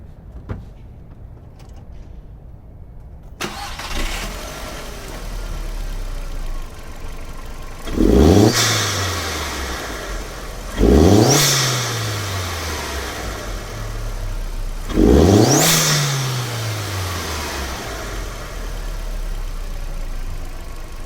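A VW Mk4 GTI with a 1.8T engine and a CTS turbo intake starts up, settles into an idle, then gets three loud, close revs, each one rising sharply and falling back to idle.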